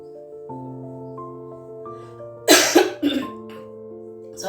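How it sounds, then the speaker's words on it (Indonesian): A person coughs in a burst of several harsh, close coughs with some throat clearing, breaking into an otherwise quiet indoor moment while steady tonal background music plays underneath. "saya rada batuk dari kemarin"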